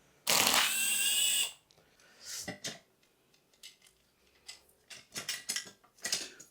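A T30 bit undoes the camshaft cradle bolts on a forged Volkswagen engine. A loud motorized whir lasts about a second, followed by scattered light metallic clinks and taps.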